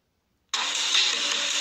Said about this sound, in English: let's play Asphalt 8 Airborne, which is one of the most popular racing game currently available.